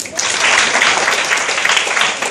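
Audience applause fills a classroom at an IAS coaching session in Kottayam: dense, steady clapping from many hands, loud and close, holding for a couple of seconds before easing slightly at the end.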